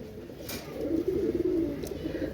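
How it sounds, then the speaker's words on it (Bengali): Teddy pigeons coo softly in a low, rolling burble near the middle of the stretch, against a quiet background with a couple of faint clicks. "দেখছেন ভিউয়ার্স কবুতরগুলোর কোয়ালিটি দেখেন, অনেক সুন্দর কবুতর ভাই মাশাআল্লাহ"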